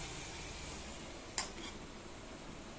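Palm fritters (taler bora) fry in oil over medium heat, giving a faint, steady sizzle with one brief clink of a utensil midway.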